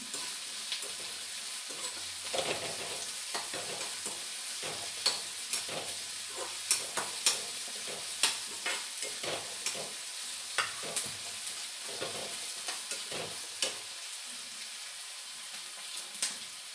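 Food fries in a pan until light brown with a soft, steady sizzle, broken by repeated clinking and scraping as it is stirred at a moderate distance.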